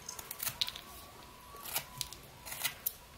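Pocket knife whittling a wooden bottle stopper, giving a run of close, crisp scraping and slicing strokes in uneven bursts over a quiet background.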